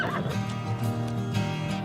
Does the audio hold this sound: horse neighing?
yes